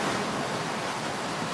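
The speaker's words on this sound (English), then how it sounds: "There's a lot of wind." Strong wind sweeping across a golf course during the final round of a professional women's tournament, a steady broadband roar buffeting the microphone, loud and unbroken with no speech.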